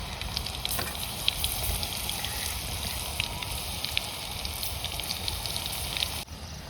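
Bhaji batter deep-frying in boiling oil on a wood-fired stove, giving a steady, dense sizzle and crackle close by with occasional sharper pops, continuous throughout with no talking.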